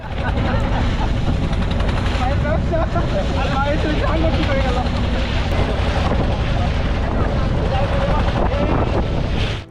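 A small boat drones along over open sea off Sonadia Island, Cox's Bazar, as wind buffets loudly and constantly, with splashing and rumbling beneath the roar.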